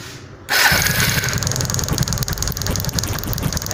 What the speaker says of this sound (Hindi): अब बाइक को स्टार्ट करके देखते हैं।